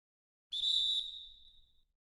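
A referee's whistle calls a foul in the NBA 2K20 basketball video game: a single sharp, shrill blast, loud and close, holding for about a second before fading out, with no talk over it.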